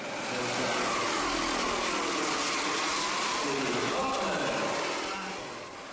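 Steady, loud model aircraft turbine engine whine runs throughout, a smooth high-pitched roar without a piston engine's thumping, holding level before easing off slightly at the end.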